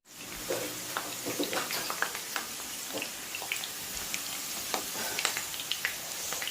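Potatoes frying in plenty of oil in a pan for a desi-style Spanish potato omelette, a steady close hiss and crackle with scattered sharp pops and occasional stirring clatter, no talking.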